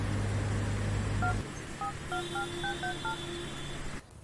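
A telephone keypad is dialed with a quick series of short, faint beeps, followed by a longer steady tone. It rings out over a quiet background.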